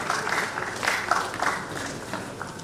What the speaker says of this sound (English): There's a round of applause for Dr.